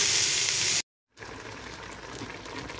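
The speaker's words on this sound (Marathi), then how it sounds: "तिसऱ्या मांस आनी प्रॉन्स बरें फ्राय जायत येयलां विथ बे लीव्स, सिनामॉन स्टिक, क्लोव्स, सगळे स्पायसीस" Clams and prawns frying in a pan with onion, bay leaves, cinnamon stick, cloves and other spices, giving a steady close sizzle that cuts out briefly before a softer sizzle resumes.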